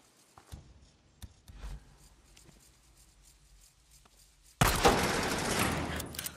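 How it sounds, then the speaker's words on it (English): A gunshot fired at a latch in Days Gone: a quiet stretch of small clicks and shuffles, then one sudden loud crack that carries into a sustained burst of harsh noise to the end. "I can shoot the latch."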